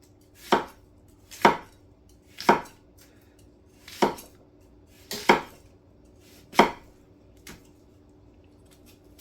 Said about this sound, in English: Again, onions just going to be chopped up into